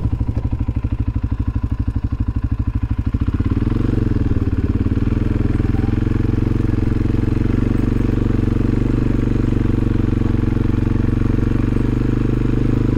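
A CFMOTO CFORCE 400 ATV pulls a load in low gear with four-wheel drive engaged. Close engine chugs rhythmically, then settles into a steady, loud drone under load without any talk.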